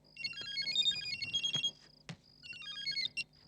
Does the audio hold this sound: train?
no